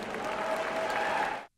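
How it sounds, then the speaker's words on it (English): A large rally crowd roars with sustained applause and cheering, loud and dense for about a second and a half before cutting off abruptly. "Roars from the crowd there."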